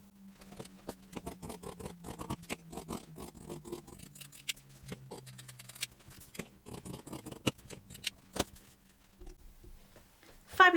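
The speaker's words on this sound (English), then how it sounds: "We are then going to cut along this draft line." Scissors snip through fabric along a traced draft line on a t-shirt, a quick run of close, crisp cuts in an irregular rhythm with short pauses.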